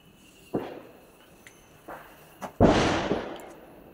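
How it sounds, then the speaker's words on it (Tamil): Firecrackers going off during a Christmas celebration at a home, several sharp separate bangs at irregular intervals, the last one louder and trailing into a crackling, fading rumble. "வெடிசத்தெல்லாம் கேட்குது மச்சான்"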